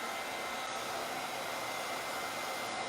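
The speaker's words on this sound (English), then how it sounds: "I need to put some heat on this to make sure it's dry." A heat tool blows steadily while drying a craft project, a constant close whooshing fan-and-air roar that holds an even level throughout with no voices.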